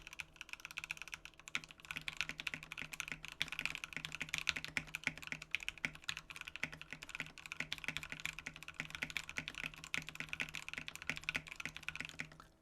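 Continuous typing on a Satisfaction75 mechanical keyboard with PBT keycaps and an FR4 plate, a dense, steady patter of close keystrokes with no voices.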